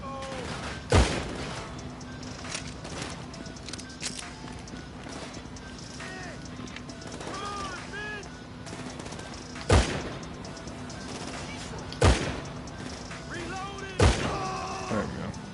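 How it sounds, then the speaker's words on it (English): Gunfire in the video game GTA V: several sharp, loud shots spaced apart, a burst near the start and single cracks later, over a busy game background of movement and clatter. "I'm shooting these guys."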